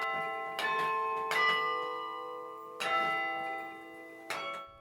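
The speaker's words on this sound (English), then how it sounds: "He's playing the keyboard in a carillon." Carillon bells in Luther Tower played from a keyboard, four rich struck chords ringing out with long sustained overtones and decay between strikes, close and clear with no talk.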